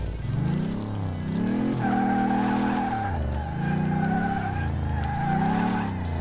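A Lamborghini Countach LP5000 in a PC car simulator skids and fishtails, its engine droning loudly while tires squeal in long rising and falling sweeps, close and continuous with no talk.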